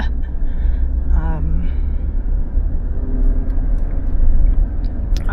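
Steady low road rumble and engine drone inside a Suzuki Jimny GLX 5-door cabin while driving through the city, continuous and fairly loud, with brief tonal beeps near the start.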